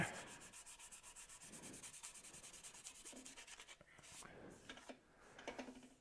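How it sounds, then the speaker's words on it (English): A koa natural edge bowl is hand sanded with sandpaper on a locked lathe, a fast rhythmic rubbing swish that repeats in short strokes before slowing, with a soft voice briefly murmuring near the end. "Doesn't take long with sharp sandpaper."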